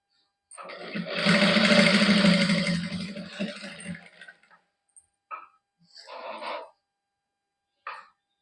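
Domestic sewing machine running a burst of stitching along a salwar hem at close range, a steady whirring run of about three seconds followed by short start-stop bursts with quiet gaps.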